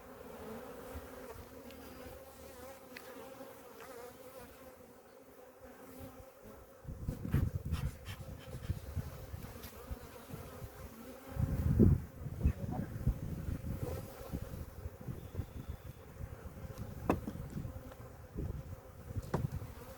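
Bees buzz steadily around an open, strongly populated four-frame nuc during a hive inspection, the drone swelling louder and denser midway with occasional close passes near the microphone, alongside faint handling rustle.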